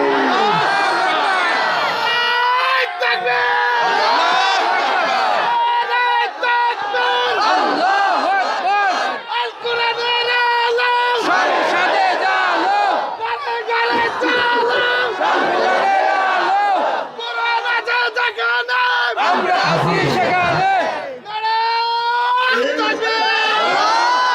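A large crowd at an Islamic religious gathering roars a loud takbir response, voices chanting and shouting together almost without pause, with a few brief dips before the cheering swells again.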